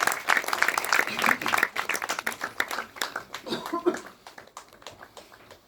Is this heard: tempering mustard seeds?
no